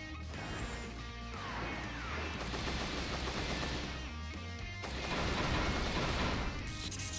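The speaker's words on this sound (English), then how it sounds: "So now he's using the 110 rifle, which he has 10 shots." Dense, continuous rifle fire and impacts in the video game Super Robot Wars 30, loud and layered over music, with two surging bursts across the stretch.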